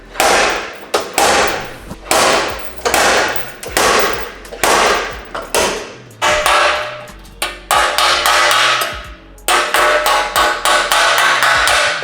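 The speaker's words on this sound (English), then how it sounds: "After Shane did a little bit of metal persuasion" Repeated loud hammer blows on car body sheet metal during a Holden Commodore rebuild, struck in quick rhythmic bursts with short pauses between groups, close and ringing.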